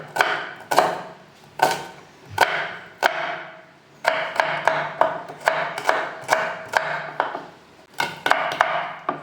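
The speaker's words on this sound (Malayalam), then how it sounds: "അതിന് ഇതിൽ ചെറുതായിട്ടൊന്ന് നുറുക്കിയെടുക്കാം" A knife finely chopping shallots for a lentil and raw plantain dish. Close, crisp chops come in short irregular bursts, some slow and some in quick runs, with no talk.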